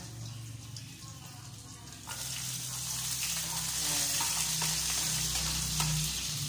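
Garlic sautés in a hot pan. A quieter hiss swells into a loud, steady sizzle that continues close by, with occasional crackles and stirring scrapes.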